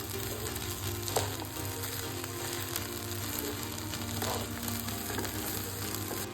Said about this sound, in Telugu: ఒకసారి ఇవన్నీ మంచిగా రైస్కి పట్టేలాగా కలుపుకోవాలండి.